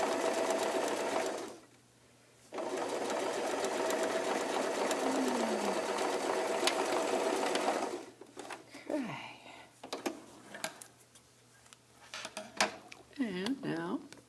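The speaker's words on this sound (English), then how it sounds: "sew my zipper tape only to the fly extension right now" A sewing machine stitches zipper tape onto a fly extension with a steady, close, rapid mechanical whir. It pauses briefly, runs again, then stops, and a voice speaks over scattered fabric handling.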